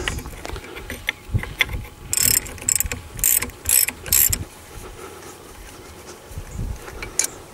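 A 19mm spanner slackening the bottom brake caliper bolt on a Jaguar X-Type front brake, heard as bursts of ratcheting metal clicks in quick groups, close and moderately loud, with softer clanks between.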